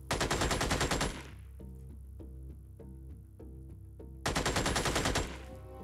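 A heavy soldier unit firing at a fence in the video game Xenonauts: a loud, rapid machine-gun burst of closely spaced rounds, a pause filled with a steady tone and faint repeated ticks, then a second equally loud burst.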